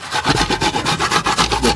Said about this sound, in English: now she's about to grate the white substance, the fruit from the coconut